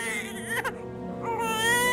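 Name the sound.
baby crying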